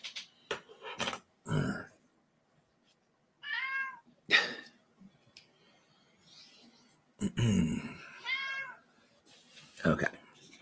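A house cat meows several times indoors in drawn-out, wavering cries, with grunting and breathy noises between them and a person talking briefly in between.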